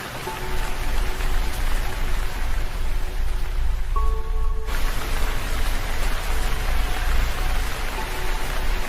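Heavy rain pours down in a steady, dense hiss that stays loud and unbroken throughout, with faint tonal sounds drifting in the background.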